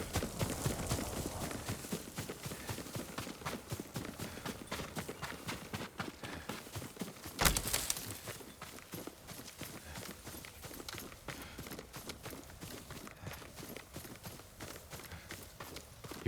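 Steady clip-clop of horse hooves at a trot in the Ghost of Tsushima game, rhythmic and continuous over a background bed, with one brief louder burst midway.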